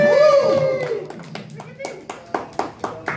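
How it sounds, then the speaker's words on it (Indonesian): Applause at a youth organisation's work meeting in West Jakarta, starting after a voice speaks and building into a scattered run of hand claps with a few louder ones near the end. "Beri aplaus dulu dong kepada beliau."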